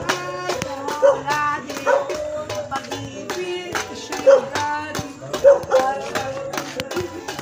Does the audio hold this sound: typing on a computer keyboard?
no